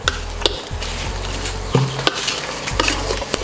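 Bamboo razor clams are stir-fried in a pan with soy sauce and sugar, a spatula scraping and clinking against the metal in quick strokes over a steady sizzle, close and alone.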